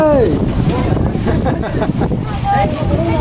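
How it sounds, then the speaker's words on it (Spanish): A motorboat runs out at sea off the beaches of Omoa in Cortés, Honduras, its engine hum mixed with loud wind buffeting the microphone, while people talk and shout over it. "navegando en medio del mar"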